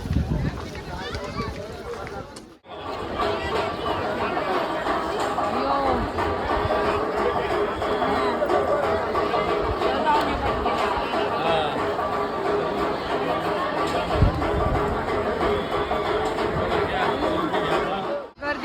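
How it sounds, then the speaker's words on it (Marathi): A busy pilgrimage place is filled with dense, continuous crowd chatter, many overlapping voices close by and loud, with footsteps and bustle running throughout. "बघा किती गर्दी आहे."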